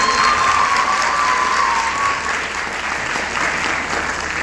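An audience at a university poetry debate final in Lahore applauds, a steady, moderately loud wash of many hands clapping that carries on evenly with no talk on top.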